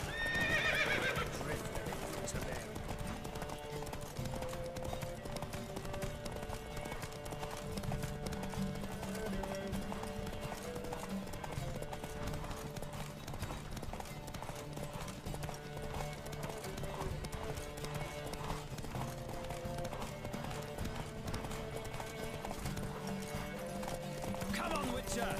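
A horse gallops in The Witcher 3 video game, its hooves drumming a steady fast clip-clop throughout, with a sharp neigh at the start and game music and speech running underneath.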